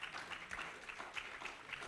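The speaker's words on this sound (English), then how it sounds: "Please, let's clap to that." Sparse, faint clapping from a small audience at a disability inclusion conference in Nigeria, scattered claps heard at a distance in a quiet room.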